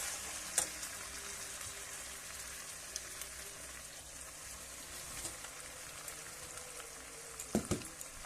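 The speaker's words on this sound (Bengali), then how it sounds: "দিয়ে আবার ভালো করে নাড়তে থাকবো" Chicken curry with fried potatoes stirred in a pan, a soft steady frying sizzle with occasional faint clinks of a spoon against the pan, quiet and continuous.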